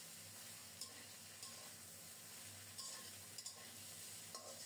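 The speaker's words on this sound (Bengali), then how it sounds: "মশলাটা ভাজা হলে এখন ধুন্দুল দিয়ে দিলাম" Ridge gourd is added to spices frying in oil, giving a quiet, steady sizzle with a few soft clinks of stirring, no voices.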